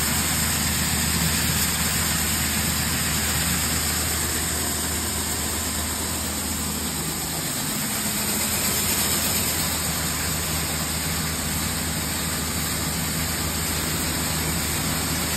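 A grain auger unloads corn through a screen cleaner into a bin, a loud, constant roar of machinery and rushing grain that holds steady throughout with only a slight dip midway.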